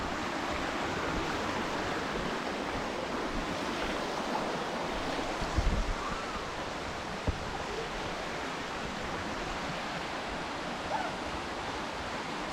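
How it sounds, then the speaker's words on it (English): A forest stream in Karura Forest, Nairobi, rushes as a steady broadband wash of flowing water, constant and fairly close, with a few faint knocks and no talking. "So it seems like we're just following this stream as we move down."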